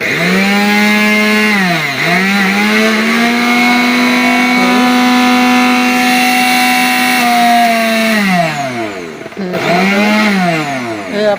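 A new-model Vision blender motor runs with a loud, high whine that sags briefly as it labours, holds steady, then drops and spins back up near the end, close by.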